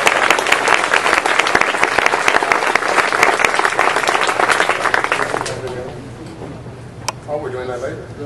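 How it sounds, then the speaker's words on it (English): A dense round of applause fills the hall at a Sigma Chi Pomeroy charter house dedication, loud and steady for about five seconds before fading to a lone voice speaking. "So, those brothers, give them a round of applause."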